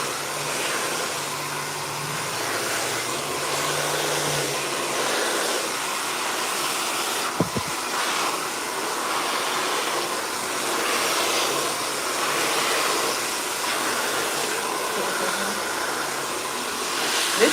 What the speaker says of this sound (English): where I'm using the brush or paddle brush and blowing her out